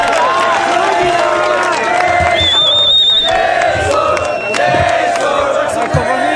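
Loud crowd at a freestyle rap battle final in Argentina, chanting and yelling a name in protest, with sustained shouted vocal tones and whoops rising over a constant roar of voices.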